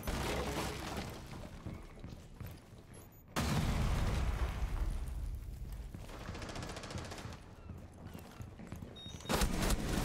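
A grenade blast in the Rainbow Six Siege video game hits abruptly and loud, followed by sustained rumbling and a second burst near the end, with dense gunfire-like noise throughout.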